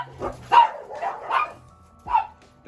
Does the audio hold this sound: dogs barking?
yes